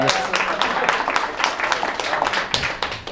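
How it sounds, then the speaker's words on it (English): Loud, close crowd clapping from the audience at a YouTube marketing keynote at Content Jam 2017, a dense flurry of hand claps sustained throughout with a voice faintly mixed in. "Can everybody give Sean just a round of applause real quick?"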